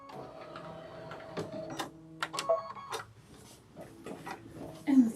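An embroidery machine quilts a Kimberbell tote insert, its needle running in short mechanical stretches and stops with brief whirring bursts; a voice speaks faintly between passes.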